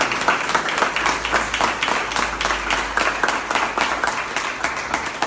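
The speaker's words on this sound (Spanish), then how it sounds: "Démosle ese aplauso a Jesús." A church congregation claps together in sustained applause, many hands blending into a dense, steady patter.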